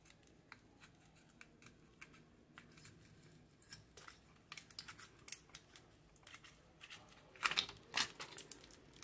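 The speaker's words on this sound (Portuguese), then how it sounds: "Cortar o durex aqui." Adhesive tape being cut on a Samsung J6 Plus or J8 Plus phone screen during a screen replacement, heard as faint, scattered snips, crinkles and taps that come close together, with a few louder cuts near the end.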